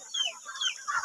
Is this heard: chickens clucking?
yes